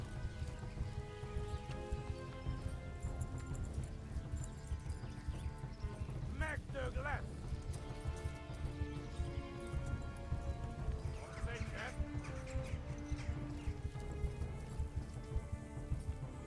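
Steady rhythmic hoofbeats of a galloping horse in the video game Kingdom Come: Deliverance run throughout, with a couple of brief whinnies and speech-like sounds mixed in.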